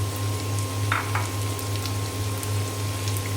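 Bitter gourd and potatoes fry with softened onion in hot oil, a steady close sizzle over a low hum, broken by a couple of faint stirring clicks.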